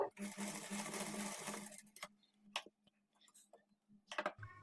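A sewing machine runs a steady stitching burr along a trouser seam for about two seconds, then stops; scattered clicks, handling noises and quiet speech follow.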